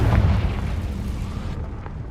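A Confringo blasting spell goes off in the Hogwarts Legacy video game, a loud low booming burst at the start that rumbles and fades away over about two seconds, with no talking.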